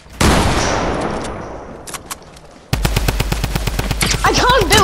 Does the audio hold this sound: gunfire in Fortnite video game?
yes